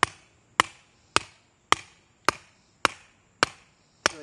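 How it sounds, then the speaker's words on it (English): A pipe being hammered into soft soil for core sampling, eight evenly spaced sharp impacts about every half second, close and loud, each decaying quickly into quiet. "Just hammer it down."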